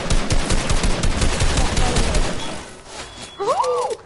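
Gunfire in Fortnite, a rapid stream of loud close shots for about two seconds, then quieter game sounds with a short rising and falling tonal effect near the end.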